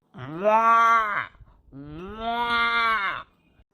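A distressed cow lows twice inside a cattle shed, two long drawn-out moos close by with a short pause between them.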